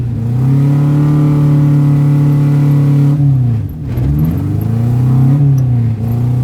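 A car engine holds a loud, steady drone up close, then dips briefly before the revs climb again as it accelerates. No one speaks.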